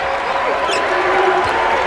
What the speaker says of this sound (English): And then the locals start to stand and cheer now